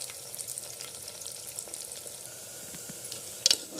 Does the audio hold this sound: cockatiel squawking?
no